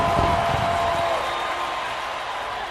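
Home baseball crowd roaring at a home run hit to left field, a broad steady cheer and applause that swells at first and slowly eases off, with a voice talking over it.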